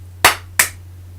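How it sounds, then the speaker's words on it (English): Two sharp hand claps, close and loud, about a third of a second apart, each ending with a short decay over a steady low hum. "I'm gonna clap twice"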